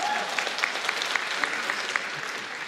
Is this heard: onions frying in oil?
no